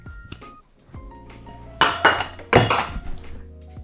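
Orange and cherry go into a cocktail mixing glass with a few sharp glassy clinks and knocks, two louder ringing strikes near the end, close by.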